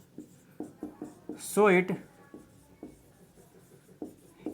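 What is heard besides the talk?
writing on a board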